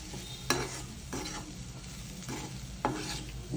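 Garlic and cumin stirred in a frying pan of oil for bitter gourd fry, a soft steady sizzle broken by four or five scraping spoon strokes, fairly quiet and close, no voices.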